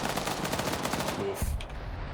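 Sustained bursts of mounted machine-gun suppressing fire in a tactical military video game battle, dense rapid shots rolling on for about a second and a half, then a heavier low boom as the firing drops away.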